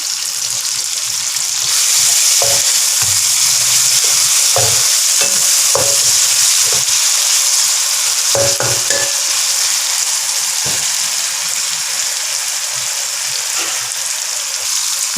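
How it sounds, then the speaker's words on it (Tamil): Ginger and garlic fry in hot oil while a utensil stirs them, giving a loud, continuous sizzle broken by repeated scraping and knocking strokes against the pan, close up with no one speaking. "இதோட கொஞ்சம் இஞ்சி பூண்டும் போட்டுடுறேன் இந்த எண்ணெயில்"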